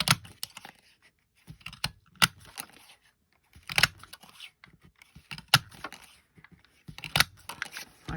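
Crisp, irregular snaps and crunches of a craft punch cutting 1-inch paper shapes, close and fairly quiet, coming in small clustered bursts separated by pauses.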